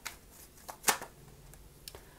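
Tarot cards shuffled by hand in a quiet room: a soft, papery riffle with one sharp flutter near the middle and a few lighter flicks, fairly faint and close.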